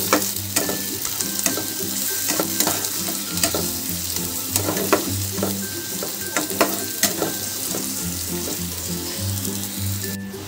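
Grated garlic fries in hot oil with onions in a pan, a continuous close sizzle broken by clacking stirs of a spoon.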